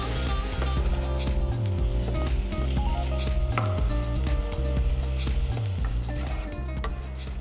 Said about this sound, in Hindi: पनीर को आप थोड़ा सा फ्राई करें